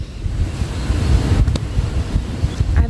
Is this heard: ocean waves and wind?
yes